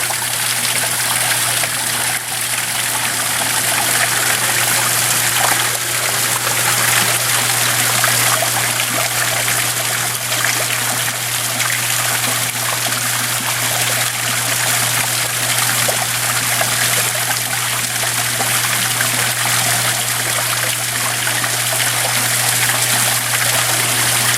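Backyard waterfall with water spilling off rocks past a small cave into a splash pool. The rushing and splashing is loud, steady and continuous, with a low hum running beneath it.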